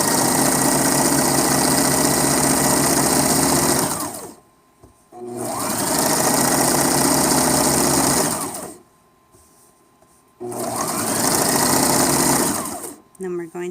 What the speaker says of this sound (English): we're going to sew all the way up our last edge.